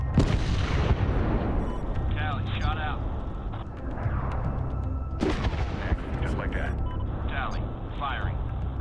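Artillery fire in the Medal of Honor (2010) shooter: heavy booming blasts and rumbling impacts fill the scene continuously, with one big detonation in the middle, while radio voices talk over the barrage.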